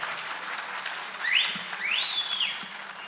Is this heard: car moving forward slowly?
no